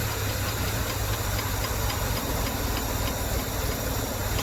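The engine of an abandoned 1969 Jaguar XJ6 Daimler Sovereign Series 1 running close to idle, heard as a steady, fairly quiet hissing rumble with faint regular ticking.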